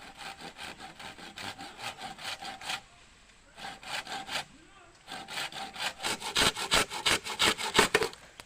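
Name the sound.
hand saw cutting bamboo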